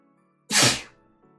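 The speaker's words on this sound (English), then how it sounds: "I really, really need to sneeze." One loud, abrupt human sneeze close to the microphone, a sharp burst that fades quickly over quiet game music.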